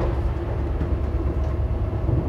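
A passenger train rumbles along at a steady pace, a continuous low rolling drone with faint rattles, heard from on board.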